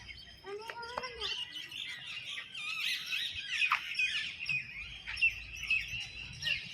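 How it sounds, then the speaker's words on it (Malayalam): Birds chirp and tweet continuously, with squirrels among them, around the grounds of Sheikh Chilli's Tomb, a Mughal monument. The calls are layered and moderately distant over a quiet outdoor hush. "അവിടെ നമുക്ക് കിളികളുടെയും അണ്ണാൻ്റെയൊക്കെ ശബ്ദമൊക്കെ ആയിട്ട് വളരെ നല്ലൊരു അറ്റ്മോസ്ഫിയറാണ് കിട്ടിയത്"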